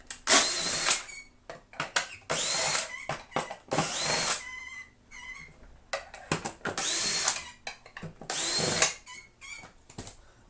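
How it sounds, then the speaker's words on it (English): A power drill whirs in repeated short bursts while undoing the screws on the underside of a vintage Dyson DC02 vacuum cleaner, with clicks and handling noises between runs; the sound is close and clear, with no talking. "we can turn her over and undo all the screws underneath"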